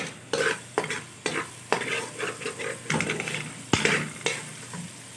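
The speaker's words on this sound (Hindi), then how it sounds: "बस इसको 1 मिनट हम फ्राई करेंगे" Garlic frying in a tablespoon of oil in a pan on low gas for chicken chow mein, a close steady sizzle broken by repeated stirring scrapes and clatters of a utensil against the pan.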